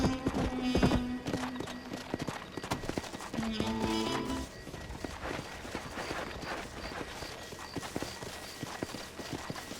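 A white horse in the Red Dead Redemption video game, its hooves clip-clopping at a run with a neigh early on, all set over a music-like background that fades as the hoofbeats carry on.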